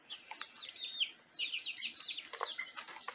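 Young chickens indoors in a cold coop, peeping and clucking in quick overlapping chirps, close and continuous for a few seconds.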